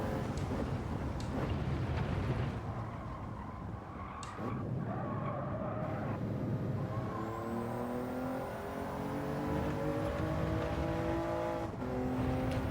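A racing car engine in a racing video game, running laps on soft tyres: a continuous droning whine that rises and shifts in pitch through gear changes, steady and close with no talk.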